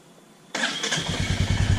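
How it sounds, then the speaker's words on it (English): A Royal Enfield Meteor motorcycle fires up after a quiet moment, the engine catching abruptly and settling into a steady, thumping idle close by. "ignition and then start the engine"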